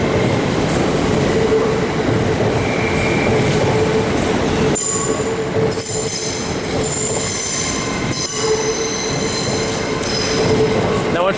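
A train pulls into a station on the London King's Cross line, with a steady loud rumble of rolling stock, faint wheel squeal and brakes hissing as it comes in close.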